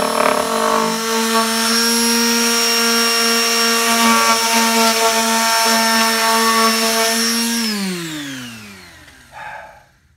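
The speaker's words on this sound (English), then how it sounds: "I'm down to the last bit of sanding." A loud power sander sanding wood on a cabinet whines steadily for several seconds, then spins down with a falling pitch and stops, leaving a brief clunk.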